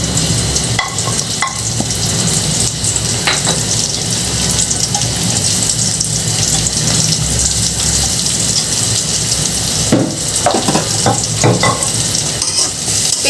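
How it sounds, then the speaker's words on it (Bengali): Onions frying in a pan until browned: a continuous loud sizzle with repeated stirring and scraping, and a cluster of utensil clatters near the end. Nobody speaks. "পেঁয়াজগুলো একবারই লাল করে ভাজবো।"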